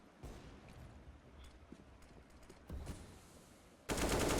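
Gunfire in the video game CS:GO during a competitive match, with scattered distant shots, a heavier burst near the middle and a loud, dense blast of fire at the end.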